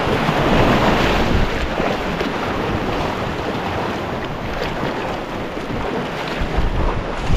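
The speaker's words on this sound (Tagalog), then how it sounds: "Tatakot ako sa alon na." Ocean surf rolls steadily onto a beach, a dense continuous wash of breaking waves with heavy wind buffeting the microphone throughout, loud and close with no pauses.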